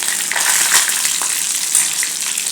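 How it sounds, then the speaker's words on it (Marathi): Mustard seeds, white sesame, green chili and curry leaves fry in hot oil, giving a steady close sizzle with small crackles and pops throughout, and no voices. "मोहरी फुलली की त्याच्यामध्ये पांढरे तीळ घालून घ्यायचे एक हिरवी मिरची आणि कढीपत्ता हे थोडंसं भाजून घ्यायचं"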